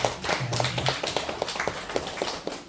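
A church congregation claps in a steady, moderately fast rhythm, the individual claps loosely together and mid-distance, with a faint voice briefly underneath.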